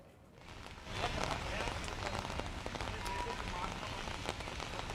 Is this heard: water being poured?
no